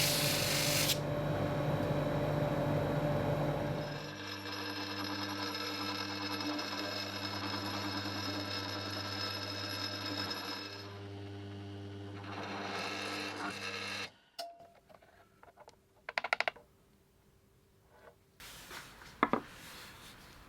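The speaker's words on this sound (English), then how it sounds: "the next thing I need to do is sand this front down and drill 2 more holes" Rotary tool sanding and drilling a cured black resin custom 8-ball shift knob: a long steady whine that shifts pitch partway through, then stops and gives way to short grinding bursts with quiet gaps between them.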